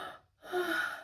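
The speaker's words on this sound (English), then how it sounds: "You can just gasp." A single sharp intake of breath, a gasp, near and soft, followed by a breathy exhale; no speech.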